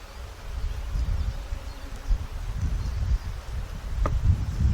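Honeybees in an opened hive give a steady low buzzing hum, close by and fairly loud, with a soft rustling texture throughout and no talk.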